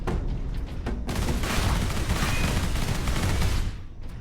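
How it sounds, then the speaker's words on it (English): Heavy weapon fire in the Warhammer 40K Space Marine video game, with dense, continuous booming blasts and rattling gunfire filling the whole stretch, loud and close with no talk. "I've only got one last cannon shot left."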